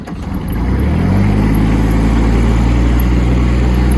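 A Kubota B52 Japanese compact tractor pulls away, its diesel engine swelling within the first second into a loud, steady, close-up drone that holds to the end.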